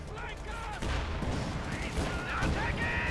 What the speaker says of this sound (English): Pack 40 firing away there, Sherman taking heavy damage.